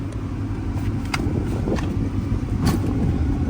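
A 1996 Honda Orthia GX-S automatic wagon with AWD and a B20B engine cruising along, a steady engine and road rumble from inside the cabin with a few faint clicks and knocks.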